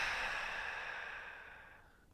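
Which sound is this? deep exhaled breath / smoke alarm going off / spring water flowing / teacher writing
deep exhaled breath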